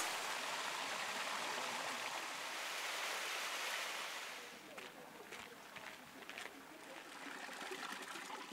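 Steady rushing of running water from a town fountain in Sardinia, continuous and fairly loud, with a few faint sharper splashes in the second half.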